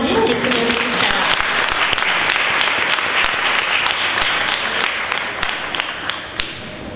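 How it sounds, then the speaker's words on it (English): Audience applause for a drummer at an International Women's Day event, a dense, sustained roar of many hands clapping that fills the room close up and fades slightly toward the end. "Let's give her a round of applause as she takes the moment"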